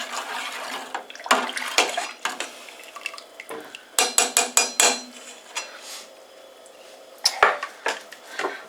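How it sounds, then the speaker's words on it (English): A spoon stirring hops into oatmeal ale wort in a metal brewing pot, producing a series of close, sharp clanks and scrapes against the pot with sloshing liquid, bursts of rapid knocks, then quieter gaps. "So just give that nice little mix around, get those last few hops infused"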